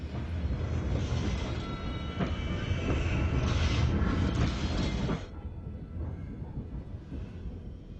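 A train rumbles past on the rails, a loud, dense roar with rhythmic clacking and metallic rattle that drops off sharply partway through and continues more faintly as it moves away.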